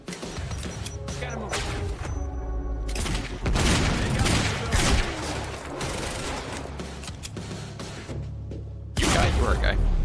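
Rapid pistol gunfire from the Quantum Break video game, sharp bursts of shots packed together over dense game effects and music, with loud impacts near the end and talk underneath.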